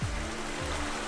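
Glen Canyon Falls in Southern California pours down with a steady, full roar of falling water, a broad continuous rush heard close up, with faint low rumbling and no voices.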